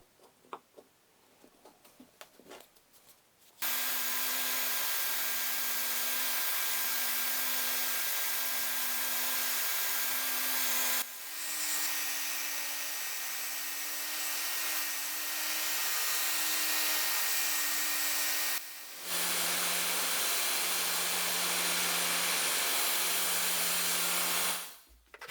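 Power sanding and filing of small wooden parts for a steampunk night lamp make a loud, continuous whirring hiss that runs for about twenty seconds with a couple of brief shifts in pitch, after a few scattered light taps at the start.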